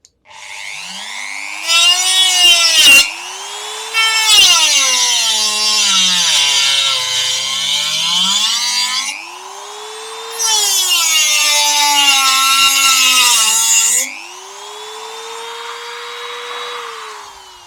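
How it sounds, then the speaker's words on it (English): A Dremel rotary tool cuts into a traffic light housing with a loud, high whine that rises and falls in pitch as the load changes, with two long cutting passes and a brief pause between them. "I think I'll just do it a little bit more gently with the Dremel and just gently cut into that all the way around."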